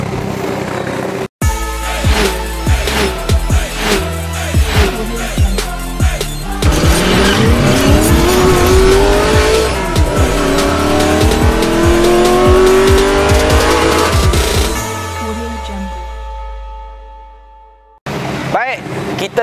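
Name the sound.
Lotus Esprit S4S 1995 sports car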